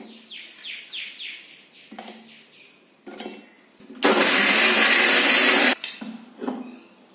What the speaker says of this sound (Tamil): ஓரியோ பிஸ்கெட்டை வந்து கிரைண்ட் பண்ணி பவுடர் ஆக்கிக்கலாம்